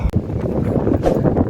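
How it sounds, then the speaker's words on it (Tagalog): Strong wind gusts across a high rock formation, buffeting the microphone in a loud, continuous rumbling roar with a brief thump near the start. "tignan nyo naman ang hangin"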